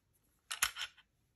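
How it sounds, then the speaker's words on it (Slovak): A magazine is dropped from a Glock 43X 9mm subcompact pistol, giving a short cluster of sharp metallic clicks and a slide-out clatter lasting about half a second, close and crisp in a quiet room. "Vypustíme zásobník,"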